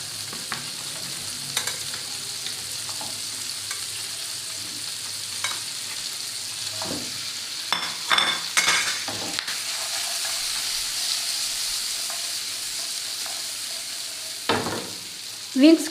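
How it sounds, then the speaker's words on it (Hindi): Chicken wings fry golden in a hot pan for a honey-glazed dish, with a constant crackling sizzle and occasional scrapes and clatter as they are stirred. No one speaks. "हमने ये विंग्स जो हैं ये इसमें सारे ऐड कर देने हैं और इनको गोल्डन फ्राई करना है।"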